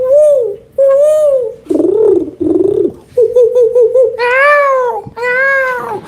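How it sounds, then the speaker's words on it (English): Birds perched in the trees call out in a series of repeated, loud, tonal coos and cries with varied pitch, close by and alone with no talking over them. "And birds, they sitting there in the trees."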